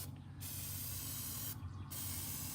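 Aerosol can spraying onto a foam insert for a pistol case, two steady hissing bursts separated by a brief pause, close and continuous over a low background hum.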